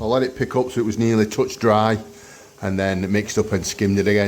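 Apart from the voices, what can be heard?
No everyday noise stands out behind the speech.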